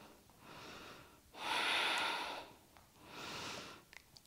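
Deep yoga breathing during a vinyasa hip-opening class: three long, close, airy breaths, inhale and exhale swelling and fading with short gaps between them, with the middle breath the loudest, and no speech.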